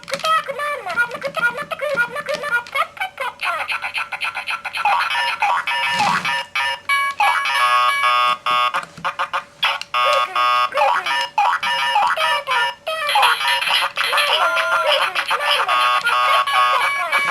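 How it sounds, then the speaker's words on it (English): Sound-effect books play random electronic sound effects at the press of a button, a loud run of synthetic tones, jingles and buzzes that retrigger again and again. "what these books do is they play one of 4 random sounds when you press the button"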